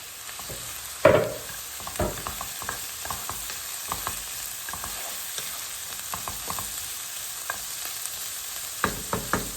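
Steady oil sizzle of onions frying in a pan as they turn pink, for a chicken buğu kebab, with scattered crackles and pops and a louder clatter of stirring near the start.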